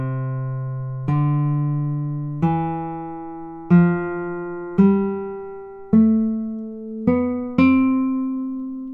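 Classical guitar plays a slow sequence of single plucked notes, about eight, each ringing then cut off at spliced crossfade edits, close and clean with no voices.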